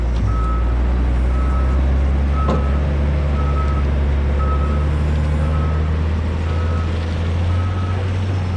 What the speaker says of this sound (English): Here we're seeing a truck and trailer coming through